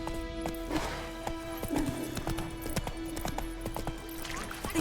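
Horse hooves in The Witcher 3 game, steady clip-clop of a galloping mount with rhythmic thuds, alongside game music tones and a voice speaking briefly.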